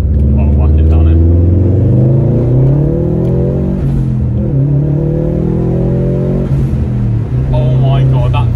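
A Subaru WRX STi with a stage 1 remap accelerates hard, its engine note rising in long sweeping pitch climbs with a loud continuous drone heard from inside the car.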